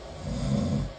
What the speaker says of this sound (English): that's snoring.